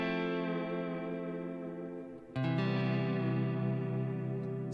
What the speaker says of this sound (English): I have almost like a chorus, a little bit of a chorus effect in there with the tape echo.